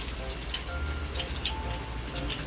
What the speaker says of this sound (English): Ang ingay ng aking fried chicken sa tabi. Still frying some chicken.